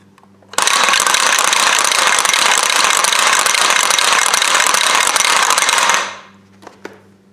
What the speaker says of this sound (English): So this is a real World War II gas rattle.